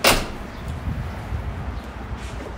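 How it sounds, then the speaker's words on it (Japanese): A van's sliding door on a FLEX CUSTOM Dark Prime II diesel camper rolls open with a sharp clack at the start, then a low rumbling slide fading off; nobody speaks. "スライドドア"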